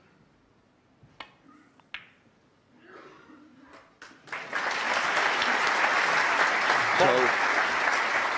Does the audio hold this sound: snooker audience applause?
yes